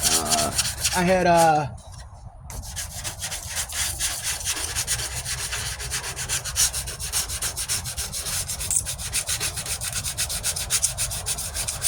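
Steady hand sanding of paint with 220 grit sandpaper on a 1998 Ford Ranger's passenger side wheel arch, a continuous close rasping rub running throughout after a brief louder noise at the start.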